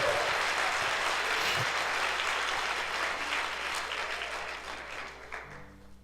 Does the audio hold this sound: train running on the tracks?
no